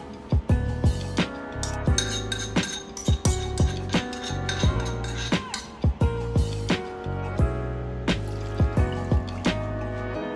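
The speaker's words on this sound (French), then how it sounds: "Je rajoute 1 litre d'eau" Water is poured into a cooking pot for a Senegalese rice-and-meat dish, heard as sharp clinking and dripping splashes in an irregular rhythm, close and fairly loud, with no talking.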